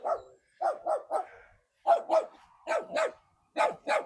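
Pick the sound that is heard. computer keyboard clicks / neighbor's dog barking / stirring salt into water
neighbor's dog barking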